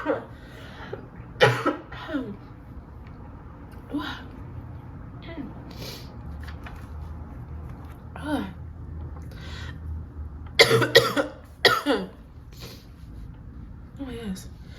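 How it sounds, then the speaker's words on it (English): A string of sharp, harsh coughs comes in bursts, clustering into a rapid fit near the end, close to the mic with brief pauses between. "I swear, I just had a coughing fit"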